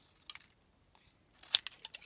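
A few sharp scissor snips through paper near the microphone, a couple early, then a quick burst of cuts in a row near the end.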